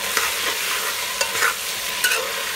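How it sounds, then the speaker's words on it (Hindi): Potatoes are stir-fried in a pan, loud hissing oil punctuated by repeated quick scraping strokes of a spatula at an irregular pace, close and alone. "2 से 3 मिनट तक भून लेंगे आलू को।"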